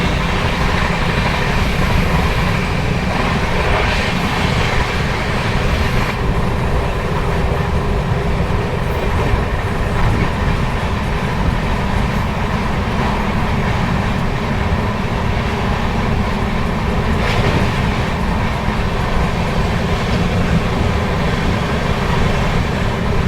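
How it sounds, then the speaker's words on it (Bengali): The New Delhi–Howrah Duronto Express rolls slowly through Bardhaman junction, a loud, continuous rumble of wheels and carriages with faint rhythmic clatter throughout. "ট্রেন এখন স্লোলি বর্ধমান জাংশন ক্রস করছে।"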